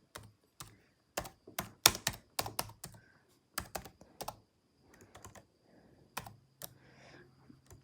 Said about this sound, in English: I am not good at typing with one hand.